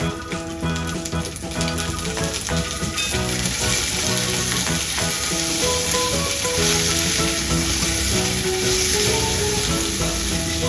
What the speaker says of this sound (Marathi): त्यानंतर हिरवी मिरची, कढीपत्ता आणि कोथिंबीर घालून 1 मिनिट परता